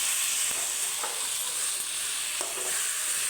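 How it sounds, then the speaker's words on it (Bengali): Spice paste with tomato paste frying in a pan sizzles steadily with a loud, bright hiss, broken by a few soft stirring scrapes, with no voices. "টমেটো বাটাটা দিয়ে এবার মশলাটাকে আর একটু ভালো ভালো করে ভাজা ভাজা করে নেবে"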